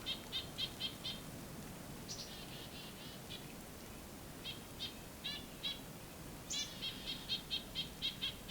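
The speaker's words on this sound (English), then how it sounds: "These nuthatches are not happy about something." Nuthatches and chickadees call in agitated bursts during a winter Christmas Bird Count walk, with an American goldfinch nearby; short clusters of high notes repeat, fairly faint and distant, over quiet outdoor background with no talking.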